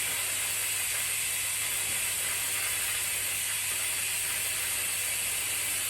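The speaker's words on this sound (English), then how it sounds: "Just sucking out of the master on the pipe." A pump sucks brake fluid out through a pipe from the master cylinder of a Yamaha YZF1000 Thunderace motorcycle, giving a steady, faint hiss with a low hum beneath and no break across the clip.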